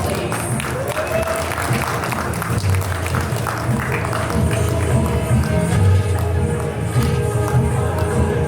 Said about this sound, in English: Let us all give her a big round of applause